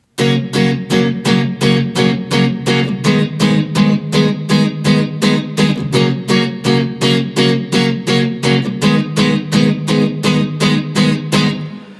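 Steady rhythmic strummed acoustic guitar chords repeat evenly throughout, full and bright, each stroke ringing into the next with no voices.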